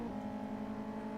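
Honda car engine in a driving video game holding a loud, steady high-revving drone as VTEC kicks in, a sustained tonal whine without gaps.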